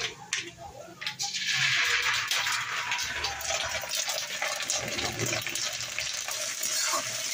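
Ginger garlic paste sizzling and frying in a hot pan with oil for egg pulao, a steady loud hiss with stirring scrapes, under a voice talking.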